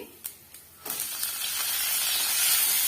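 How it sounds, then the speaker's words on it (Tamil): Onion and green chillies hit hot oil with mustard seeds and cumin, a few light crackles giving way to a steady, loud sizzling hiss that builds and holds, close up. "இப்போ இந்த வெங்காயம் பச்சை மிளகாய் இதெல்லாம் வந்து ஓரளவுக்கு வதங்கி வரட்டும்"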